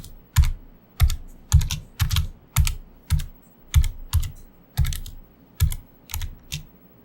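About fifteen clicky keystrokes on a Razer computer keyboard tap out in an uneven rhythm, close and distinct, with short pauses between small groups of presses.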